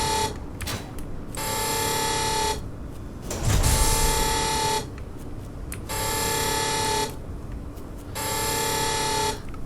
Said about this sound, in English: I know it's an alarm, it's meant to be loud,